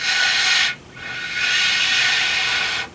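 Breathy airy blowing into a homemade flute cut from a varnished pokeweed stalk that fails to produce a tone, two steady hissing breaths close up, split by a short pause and ending abruptly.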